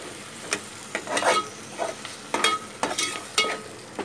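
A spoon stirs and presses tomato into a sizzling pan of cabbage and chana dal bhaji. Several sharp scrapes and clacks stand out over the steady frying hiss, with no voice.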